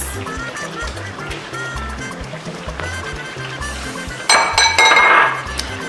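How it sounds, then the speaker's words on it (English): A spoon stirs rich blended pepper sauce for echicha in a pot, with close metallic clinks and scrapes against the pot that grow louder and busier toward the end. "Give this a good mix."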